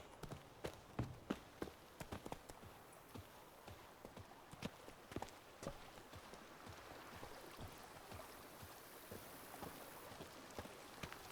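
Horse hooves clip-clop at a quick, steady pace in The Witcher 3, faint and distant, with some wind and water in the background.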